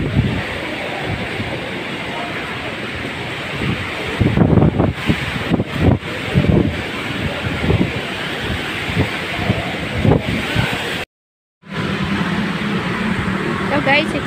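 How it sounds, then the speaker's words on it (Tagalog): Strong typhoon winds during Typhoon Kristine in Magallanes, Metro Manila, roar as continuous gusty noise buffeting the microphone, with louder bursts and a brief dropout partway through. "Malakas ang hangin sa kaulan."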